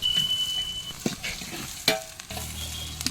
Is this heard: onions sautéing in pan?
yes